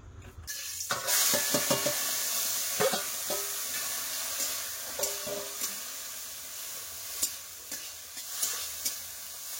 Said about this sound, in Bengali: এখন চিংড়ি মাছগুলো ভেজে নেবো